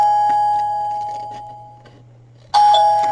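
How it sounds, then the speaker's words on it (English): An indoor doorbell rings out loud and clear. One chime decays slowly, then after a short quiet gap a second bright chime strikes. "There's the doorbell."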